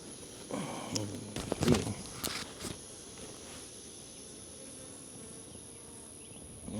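Honeybees buzz steadily in a freshly opened beehive during queen inspection, a continuous near hum with a few louder rustling bursts early on and a constant insect drone throughout.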